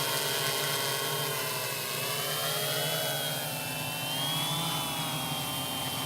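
A SuperX drone hovers in GPS mode, holding position with a steady, close, continuous buzzing motor whine that wavers slightly in pitch, with no voices over it.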